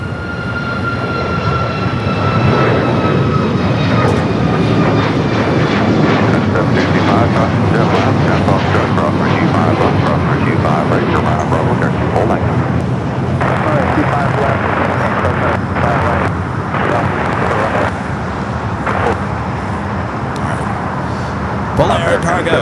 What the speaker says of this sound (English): Polar cargo 777 now rolling down the 25 left